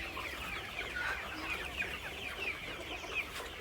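Sonali chickens cluck and chirp in a farm shed, a busy overlapping flock chorus at moderate distance over steady background hum.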